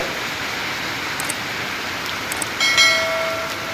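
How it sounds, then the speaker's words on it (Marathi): Monsoon rain falls at Ganpatipule on the Konkan coast as a steady, dense hiss with no pauses, joined by a few faint tonal sounds near the end. "इकडे पाऊस चालू आहे कोकणातील पाऊस आपण या ठिकाणी पाहू शकता"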